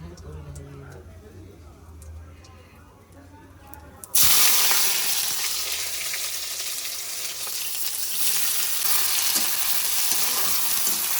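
Onions fry loudly in a hot pan, a sudden dense sizzle bursting in partway through and holding steady to the end, after a quieter stretch of kitchen sounds before it.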